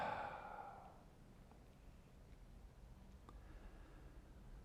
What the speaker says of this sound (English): one inhale through the nose, loud exhale through the mouth